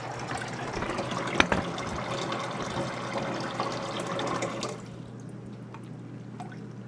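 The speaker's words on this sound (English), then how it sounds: "I'm going to add water." Filtered well water pours steadily into a glass canning jar of vegetables and spices, a continuous close splashing fill that runs for several seconds before stopping, leaving a quieter background with a few faint drips.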